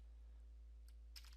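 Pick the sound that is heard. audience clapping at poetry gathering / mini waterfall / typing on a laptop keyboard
typing on a laptop keyboard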